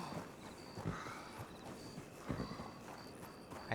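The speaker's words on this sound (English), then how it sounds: "Alright, let's call my horse over here." A horse in a video game answers a call and gallops over, its hoofbeats landing as spaced, muffled thuds over a low background drone. The sound is faint and fairly distant.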